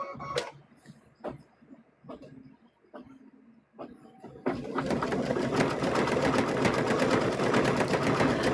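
A sewing machine runs a long, steady stitching burst on a stuffed bear, preceded by a few short, separate taps and starts close by.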